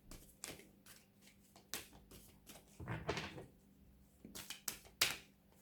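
Clarity cards from a Mona Lisa deck being shuffled and handled, giving a run of close, papery riffles and sharp flicks in uneven bursts, with no voice over them.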